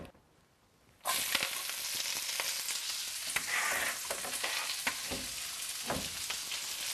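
Chopped Swiss chard hits hot olive oil and sautés with a sudden loud burst of sizzling after a second of quiet, then a dense steady crackle with occasional stirring knocks.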